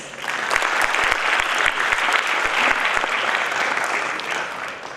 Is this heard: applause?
yes